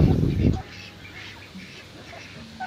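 A male Muscovy duck gives a loud, close call in the first half-second, followed by quieter background sounds and no clear further calls.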